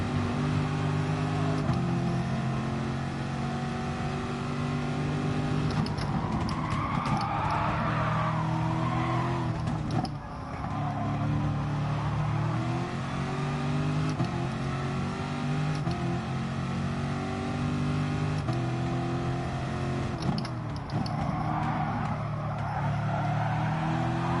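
Racing car engine from GT Sport gameplay, a sustained loud roar with shifting revs and tire noise running continuously with no talk.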